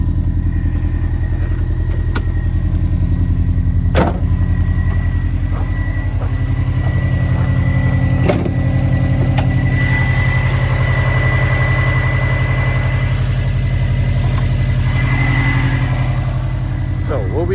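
A 2005 Saab 9-2X Aero, a WRX-based hatchback, idles steadily and close by in a garage, its low engine hum constant with a few sharp clicks and knocks over it; someone talks briefly.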